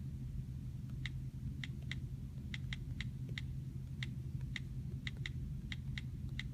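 Light, irregular taps on a computer keyboard as a name is typed at the top of a blank document, soft and close over a steady low hum, arriving in short scattered bursts.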